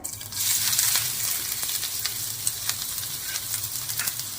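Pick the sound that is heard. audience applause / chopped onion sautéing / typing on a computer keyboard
chopped onion sautéing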